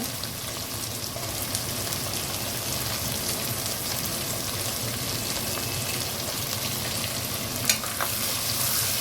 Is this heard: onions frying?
yes